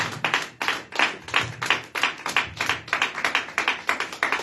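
A church congregation claps together in a steady, loud, rhythmic beat, the hand claps evenly spaced and sustained throughout without any voices.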